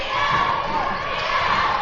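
A dense basketball crowd at a high school regional championship game between Tahlequah and Putnam City West roars and cheers continuously, a loud, unbroken wash of voices.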